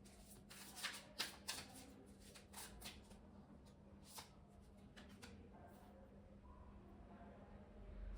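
Tarot cards being shuffled and handled by hand, a soft papery riffle with a few brisk flicks near the start, then quieter rustling against a steady low hum.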